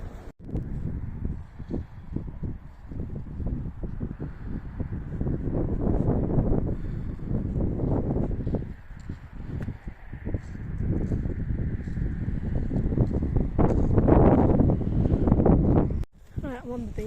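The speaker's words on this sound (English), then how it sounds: "it's very windy" Strong wind gusts across a beach and buffet the microphone in a loud, continuous roar that swells and dips, while a person talks throughout.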